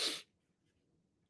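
A single sharp sneeze bursts out at the start, loud and close, then trails off into near silence.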